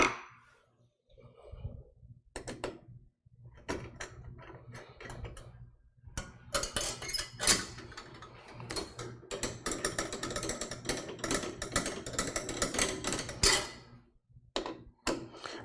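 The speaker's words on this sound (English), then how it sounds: "I'm using the included screwdriver to tighten the 2 screws of the heatsink onto that support bracket" A small included screwdriver tightening two heatsink screws onto a support bracket during a computer upgrade, giving quiet close clicking and ratcheting bursts that come and go, with brief pauses between turns.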